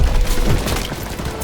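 A loud, rumbling explosion and debris roar from a grenade in the Call of Duty WW2 D-Day mission, dense and continuous with battlefield noise throughout.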